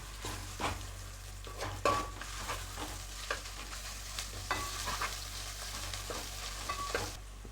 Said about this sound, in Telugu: అల్లం వెల్లుల్లి పేస్ట్ ఇది. సో ఇది పచ్చివాసన పోయే వరకు ఈ ఉల్లిగడ్డలో కలిపేద్దాం దీన్ని.